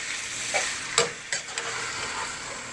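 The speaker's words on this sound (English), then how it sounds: "I am now going to add in the diced tomatoes and stir those in" A spoon stirs diced tomatoes into diced chicken and onions in a hot pan, giving a few scraping clatters over a steady close sizzle, alone with no talk.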